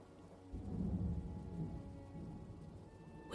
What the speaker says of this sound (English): only a few icy droplets lashed against the pane